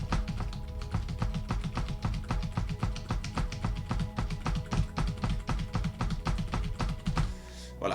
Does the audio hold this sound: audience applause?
no